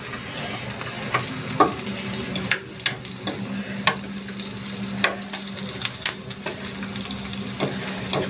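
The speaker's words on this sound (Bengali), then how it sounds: "এক এক করে আমি সব নিয়ে নিচ্ছি, নিয়ে সুন্দর মতো ভেজে নিচ্ছি" Hara bhara veg kababs frying in a pan, a steady close sizzle and hiss with occasional utensil taps and scrapes as they are turned.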